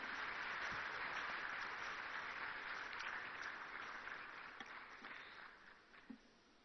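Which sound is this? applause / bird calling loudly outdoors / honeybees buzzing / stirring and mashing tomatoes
applause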